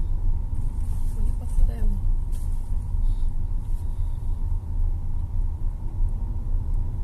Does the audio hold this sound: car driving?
yes